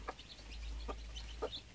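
Three short, soft clucks from free-range village chickens while eating, spaced apart at a low level, with faint chirps and steady low background hum underneath.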